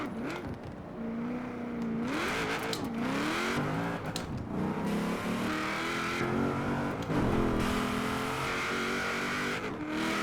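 A throaty V8 engine in the Forza Horizon 4 racing game revs up and down repeatedly, loud and close, with gear shifts and sustained high-rpm roars throughout.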